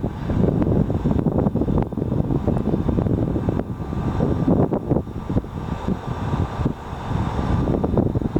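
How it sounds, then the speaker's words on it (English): A fixed-wing airplane on its landing approach into Oxford Airport, a steady low rumbling engine roar with wind buffeting the microphone, holding loud and continuous throughout with no talk. "Here goes an airplane, it's landing into Oxford Airport"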